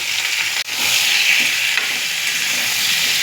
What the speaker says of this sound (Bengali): সব একসাথে নাড়িয়ে মিশিয়ে দিলাম।